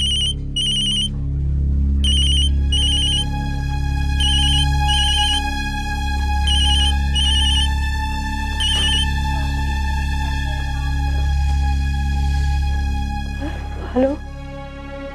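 A phone rings with a repeating electronic ringtone in short, even bursts, steady and fairly loud under background music through most of the stretch, cutting off near the end.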